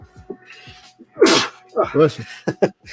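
A single loud sneeze bursts out close by, followed by brief soft speech.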